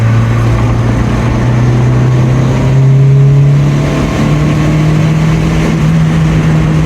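A Honda Integra GSR on turbo boost, its engine holding a loud, sustained drone that climbs in pitch as it pulls, a close, dense roar with no voices over it.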